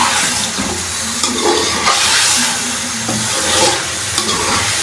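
Chicken frying in hot oil with cumin seeds and whole red chilies added for an Eid special dish, a steady loud sizzle and hiss with some stirring, no talk.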